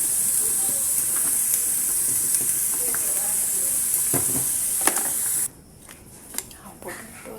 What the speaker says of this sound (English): My potatoes boiling.